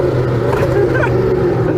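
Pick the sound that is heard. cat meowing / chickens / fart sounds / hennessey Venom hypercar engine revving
hennessey Venom hypercar engine revving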